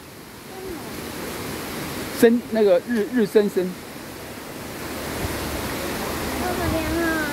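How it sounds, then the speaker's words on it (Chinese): The Shenglong waterfall at Wulai near Taipei roars as a steady, even wash of falling water from start to end, with a short burst of nearby talking in the middle. "这个就是升龙瀑布"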